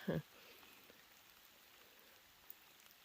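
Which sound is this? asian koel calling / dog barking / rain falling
rain falling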